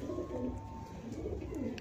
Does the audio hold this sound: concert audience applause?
no